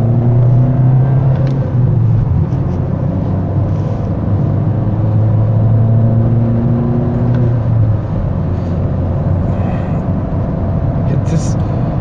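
A VW Golf 5 pulls through second gear with a steady engine drone and road rumble from inside the cabin, loud and continuous, while a person talks over it.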